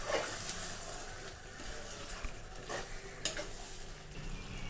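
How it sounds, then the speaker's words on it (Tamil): Curd, mint and coriander for chicken biryani cooking in a pan. A faint sizzle runs throughout, with a few soft stirring scrapes and one small clink near the end. "இது எல்லாத்தையும் சேர்த்து மிக்ஸ் பண்ணி ஒரு 1 minute நல்லா வேக வச்சு எடுத்துக்கலாம்."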